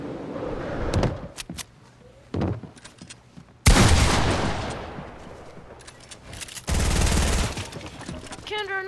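Gunfire in the video game Fortnite striking player-made builds, several loud bursts of automatic shots with clanks and impacts between them, close and dense, with brief voices in the background.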